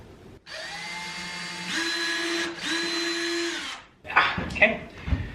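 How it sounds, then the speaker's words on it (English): A power drill bores into a tongue and groove wooden wall, running steadily for several seconds with a rising pitch as it bites in, then stops, followed by brief handling clatter and a voice. "I've just got my drill bit set up here."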